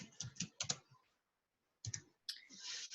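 Someone types on a computer keyboard with quick clustered key clicks close to the microphone, then a short pause, followed by another burst of tapping and a longer run of rapid keystrokes.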